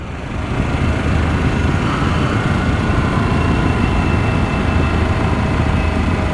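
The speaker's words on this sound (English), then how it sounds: "Engine brakes" A Harley-Davidson Pan America motorcycle engine-braking while descending the Tail of the Dragon road, a steady low rumble mixed with rushing wind noise, continuous and close, with no talking.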